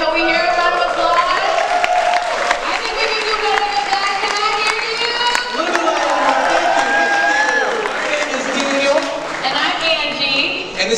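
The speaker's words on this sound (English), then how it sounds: "Can we hear a round of applause?" An audience at the 2019 Imagine Showcase claps and cheers loudly and continuously, with whoops and crowd voices rising over the constant applause.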